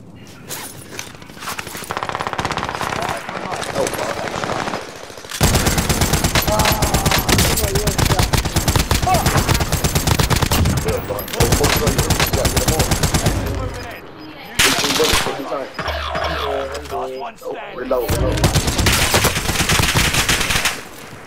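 Heavy .50 caliber machine gun fire from a video game shooter, long loud sustained bursts broken by short pauses, with voices talking over and between the volleys.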